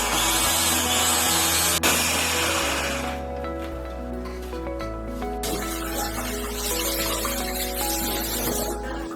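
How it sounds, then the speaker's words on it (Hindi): A kitchen mixer grinder chops ginger, garlic, green chillies and onion with a loud, droning whir. The pitch shifts in steps as the load changes, with a brief pause near 1.8 seconds, and there is no talking. "अब इसमें अदरक, लहसुन और हरी मिर्च साथ में प्याज मैं अच्छे से ग्राइंड कर लूंगी"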